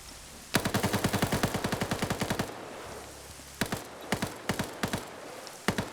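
An RPK machine gun fires in a video game firefight, first a long rapid burst of evenly spaced shots, then several shorter bursts after a pause, loud and punchy with no talking.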